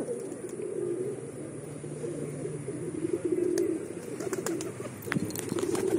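Soft, low pigeon coos repeat over a steady outdoor hum, with a few faint chirps and light clicks scattered through.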